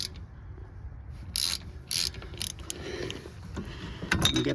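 Ratchet tightening wheel bearing assembly bolts on a 2009-2015 Toyota Venza, quick clicking ratchet strokes in short bursts, close and moderately quiet, with no talking.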